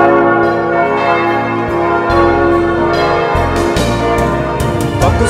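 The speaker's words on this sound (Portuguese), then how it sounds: "Toca o sino da igreja, a missa vai começar." Church bell tolling before mass, loud and sustained, its resonant strikes ringing with a long overlapping hum that fills the whole stretch.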